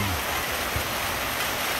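Steady, dense hiss of heavy rain pouring down nearby on an outdoor football match with distant thunder, constant and even with no pauses.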